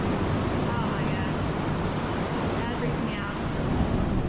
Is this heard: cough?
no